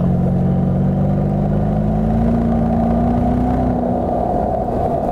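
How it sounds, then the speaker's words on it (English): A BMW 650i convertible's 4.4-liter twin-turbo V8 rumbles with a deep, steady back-pressure burble off throttle, loud and close, holding for several seconds with a slight falling pitch toward the end. "The engine emits an awesomely addictive back pressure burble too when we lift off the gas pedal."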